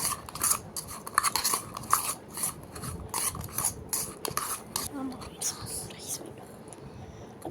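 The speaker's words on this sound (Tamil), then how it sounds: "இப்போ நல்லா வதக்கி விட்டுறலாம்" Ingredients for fried rice being sautéed and stirred in a pan, with repeated rhythmic scraping and rasping strokes at a close, moderate level and faint background voice.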